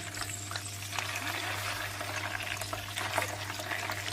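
A small piece of fish drops into hot oil in a pan and fries with a steady close sizzle, scattered crackles and pops over a low constant hum.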